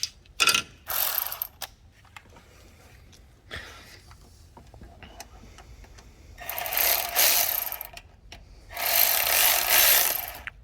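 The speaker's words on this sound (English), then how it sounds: "Now you're gonna work both of these bolts back and forth." A ratchet worked back and forth on timing belt bolts of a 2005 Toyota 4Runner 4.7L, with close bursts of rapid clicking separated by quieter pauses and small metallic taps.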